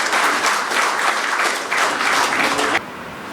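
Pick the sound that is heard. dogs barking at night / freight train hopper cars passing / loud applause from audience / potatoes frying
loud applause from audience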